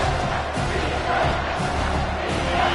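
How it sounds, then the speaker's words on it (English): Football stadium crowd cheering at a Navy vs Miami college game on third down: a dense, loud, continuous roar of many voices that holds steady throughout. "3rd down, and the crowd really getting into it."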